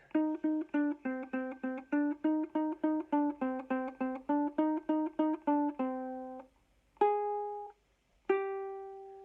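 A ukulele plays a quick repeated note pattern, bright and close, then slows into a few longer ringing notes.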